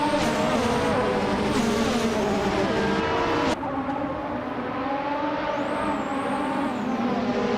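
A 1988 McLaren MP4/4 race car engine at the start of a race at New Jersey Motorsports Park, a loud sustained high-revving whine with shifting pitch, dipping briefly midway before climbing again, with other cars droning alongside.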